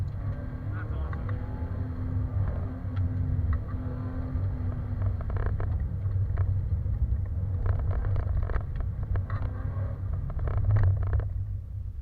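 A Subaru BRZ's engine drones steadily through the cabin during an autocross run, a continuous low rumble that swells and eases with throttle while people talk over it.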